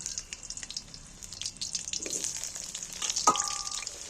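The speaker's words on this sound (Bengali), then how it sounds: "আলুগুলো কেটে ধুয়ে রেখেছি তেলের মধ্যে তুলে দিই" Cut potatoes dropped into hot oil and frying, a bright steady sizzle with scattered crackles and a metallic clink near the end, close by and without speech.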